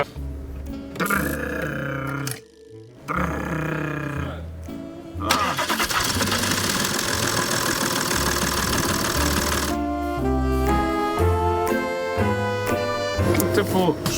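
A car engine running rough with two or three dead cylinders after the timing jumped two teeth and damaged a rocker, cranking and then idling unevenly and loud up close, with a steady harsher stretch in the middle.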